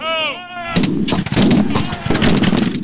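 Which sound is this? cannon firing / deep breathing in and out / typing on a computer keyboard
cannon firing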